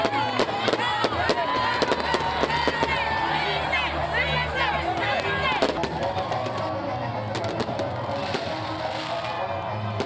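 Fireworks crackle and bang through a New Year's Eve celebration in a French town at midnight, with a dense crowd cheering and shouting over the continuous popping, people talking throughout.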